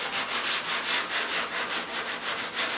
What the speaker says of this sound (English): This is 220 on a nice firm block